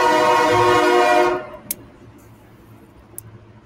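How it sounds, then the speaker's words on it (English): A freight train passes close by, with a loud, dense rumble and metallic clatter that fades out after about a second and a half, leaving faint background noise and a couple of brief high squeaks. "Another freight train."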